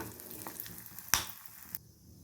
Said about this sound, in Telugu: ఇప్పుడు ఇందులో మనము ఇలాగా పెసరపప్పు, మూంగ్ దాల్ ఇవి వేసుకొని ఈ ఆయిల్లోనూ ఇది ఫ్రై అయిపోవాలన్నమాట